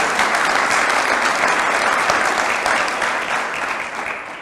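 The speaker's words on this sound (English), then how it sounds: "So please give them a big round of applause," Sustained, dense round of applause fills an awards luncheon room, steady and loud throughout before slowly tapering at the end.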